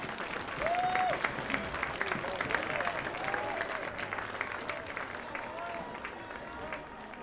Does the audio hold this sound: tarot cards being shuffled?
no